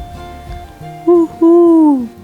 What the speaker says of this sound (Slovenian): Sova skovika svoj bojni zov.